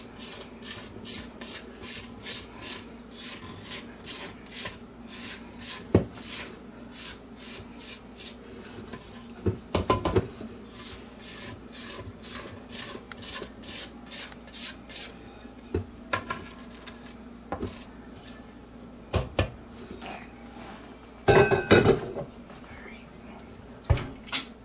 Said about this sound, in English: let's mix this together really good. Scrape these sides down one last time.